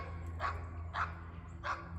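Three distinct dog barks at an even pace, moderately loud outdoors in a yard, over a low steady background rumble.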